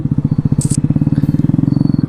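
Motorcycle engine running close by with a rapid, even pulsing throb, steady throughout, with a brief hiss partway through.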